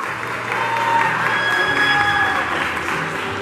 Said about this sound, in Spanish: Muy bien, el aplauso, por favor.